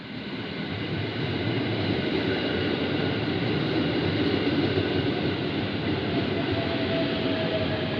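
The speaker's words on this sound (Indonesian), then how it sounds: "Nah, ini datang kereta lagi yang ke Jakarta Kota ya." A KRL commuter train pulls into Manggarai station at a busy platform, producing a loud, steady rumble and hum of wheels and motors that holds throughout without pause.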